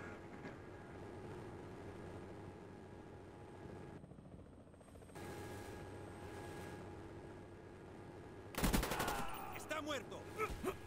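Gunfire in Call of Duty Black Ops aimed at the player, a steady rumble of shots and engine noise under faint chatter, ending in a loud, close burst of fire.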